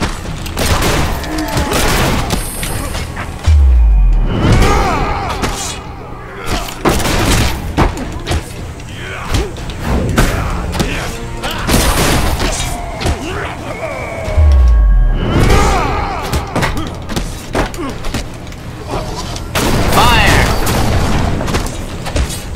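Booming gunshots from a companion's weapon in the video game Hand of Fate 2 ring out in several loud bursts over game music and effects, with a voice talking in between.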